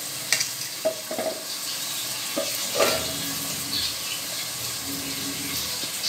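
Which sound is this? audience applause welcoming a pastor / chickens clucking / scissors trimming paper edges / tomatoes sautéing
tomatoes sautéing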